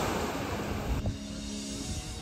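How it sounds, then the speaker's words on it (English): Strong, chilly westerly Mistral wind sweeps a beach on the French Riviera, a steady roar of wind buffeting the microphone over broad surf noise, with a sudden drop in the gusting after a second. "the wind has increased a lot"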